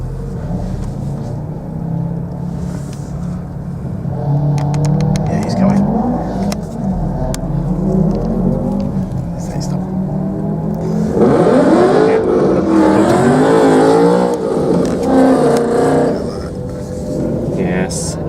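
A Nissan GT-R launches down the Santa Pod drag strip, its engine note building and rising in pitch toward the middle of the run, loud and sustained beneath people talking nearby.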